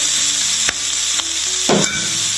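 Chopped ridge gourd is stirred into hot oil with tomato and onion in a pan, giving a steady loud sizzle with a few sharp scraping strokes of the stirring utensil.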